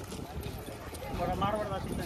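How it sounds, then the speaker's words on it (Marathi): Hooves of a Marwari horse clip-clop at a crowded horse market in Yeola, a steady close series of hoof strikes running under continuous talk from people nearby. "कसा आहे हा घोडा?"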